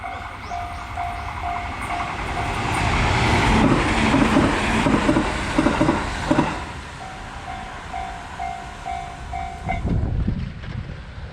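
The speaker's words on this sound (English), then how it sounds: "Oh, it's a commuter train." A commuter train in Kyoto rumbles past close by with rattling wheels and wind buffeting, while a railway crossing bell dings rhythmically through most of it.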